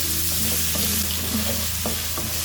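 Mutton pieces browning with ginger and garlic in a pan sizzle steadily at close range, with a few soft scrape and stir knocks over a constant low hum.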